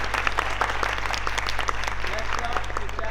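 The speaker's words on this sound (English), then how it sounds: "so just a massive round of applause to him" A theatre audience claps enthusiastically in a sustained round of applause after a live play, dense and steady, with a low hum underneath and no clear talking.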